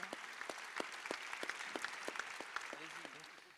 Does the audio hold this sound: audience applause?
yes